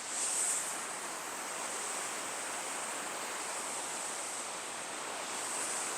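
A river fed from Snowdonia flows past stone steps at Llandrillo, Wales, a steady broadband rushing of water at moderate distance, continuous and even throughout.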